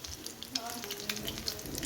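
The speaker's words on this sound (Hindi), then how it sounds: "मैं अभी सिर्फ 3 फ्राई कर रही हूँ" Egg bread sandwiches fry in a pan with a soft, continuous sizzle and light crackling, while a faint murmur sits in the background.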